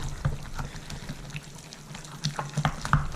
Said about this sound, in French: et vous mélangez énergiquement